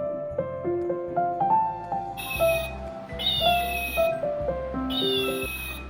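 A stuffed toy cat's built-in sound key plays an electronic meow tune: a bright, repeating synthetic melody with several high, sweeping meow-like cries layered over it, loud and close.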